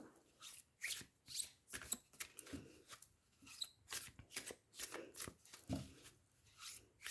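Tarot cards shuffled and drawn by hand, soft papery riffles and rubbing swishes in irregular bursts, close and quiet with no voice.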